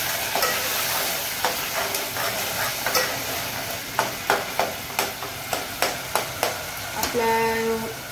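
Onion and tomato frying in hot oil in a pot, a constant sizzle broken by a regular series of sharp spatula scrapes and taps, followed by a short electronic tone at the end.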